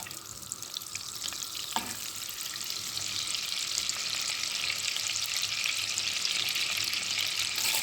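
Steady, crackling sizzle of vegetable oil and butter heating in a preheated pot for rice pilaf, continuous throughout with a brief metallic clink near the start.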